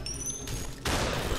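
Gunshots in the Superhot video game: a broadband burst of fire about halfway through, then a louder, sustained crackling volley to the end, with no talking.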